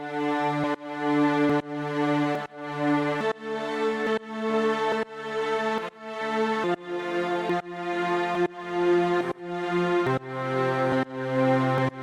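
Reversed backwards vocal effect in an FL Studio Lil Baby-style trap beat: tonal swells rise and then cut off abruptly, repeating about a dozen times in a steady loop.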